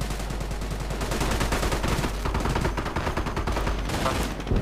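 Rapid bursts of Bren light machine gun fire in a Company of Heroes World War II battle, loud and close, rattling continuously with overlapping shots and distant battlefield gunfire.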